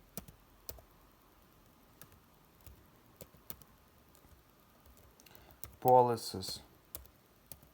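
Computer keyboard keys click in sparse, scattered taps, fairly quiet and close, while someone briefly speaks over the typing.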